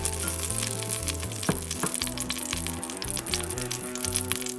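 Onion, garlic and peppers sizzle steadily in beef drippings in a pot, a constant close frying hiss heard under loud background music.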